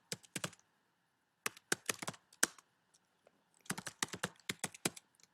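Bursts of typing on a computer keyboard while writing a formatted paper, with crisp, close key clicks in quick clusters separated by short pauses.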